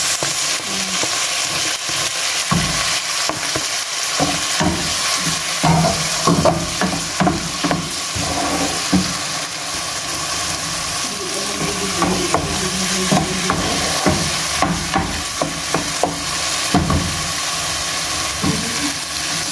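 Tomatoes frying in a pan with cardamom and chili for a homemade chicken masala, a loud close sizzle broken by repeated stirring and scraping strokes, with no voices.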